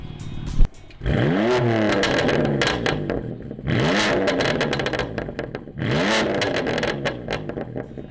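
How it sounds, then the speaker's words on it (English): A BMW M3 engine revs hard three times through a new aftermarket exhaust, each burst rising sharply in pitch then falling back, with a loud, crackling exhaust close by. "give it a few revs so we can compare it to the new exhaust."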